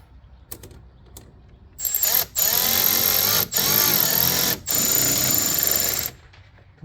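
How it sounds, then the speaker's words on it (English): A hose clamp is tightened on the intake boot of a Banks Ram-Air intake on a 2015-2017 Ford F-150 5.0L, with four loud, close bursts of buzzing, ratcheting tool whir separated by short pauses. "Last thing left, let's put this clamp on here."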